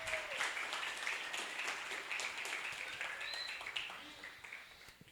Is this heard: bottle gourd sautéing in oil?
no